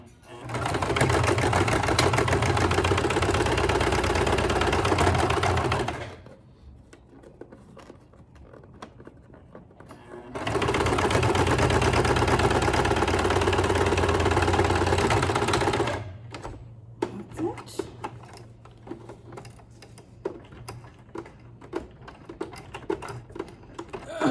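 A sewing machine stitches a face mask in two loud, close bursts of rapid mechanical clatter, each several seconds long, with quieter handling clicks and taps between them.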